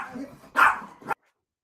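A pet dog lets out a couple of short barks close by, one loud yelp then a quicker second bark before it goes quiet, with faint background sounds beneath.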